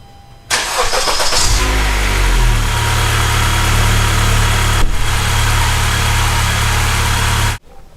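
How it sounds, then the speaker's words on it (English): A Honda Accord engine cranks and catches with a loud start, then settles into a steady, close, low idle that runs for several seconds before it is shut off. The car is a 2013–2016 model, parked for an oil change. "I'm going to start the car real quick, let it run for a few seconds"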